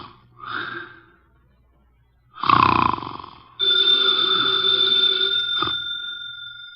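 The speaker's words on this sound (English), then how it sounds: "His eyes are closed, and he's making sounds through his nose." A heavy man snores through his nose in an old radio drama: two raspy nasal snorts with a quiet gap between, then a telephone bell starts ringing close by.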